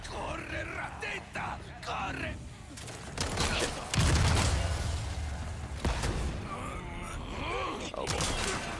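Rapid bursts of gunfire from a Resident Evil 4 video game, sharp repeated shots mixed with grunts and groans, with a loud heavier stretch midway and a player talking over the action.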